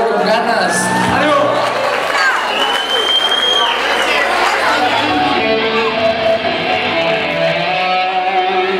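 Crowd at a concert applauding and cheering for the band after their introduction, dense clapping and whoops that stay loud and steady throughout, with voices shouting in the mix.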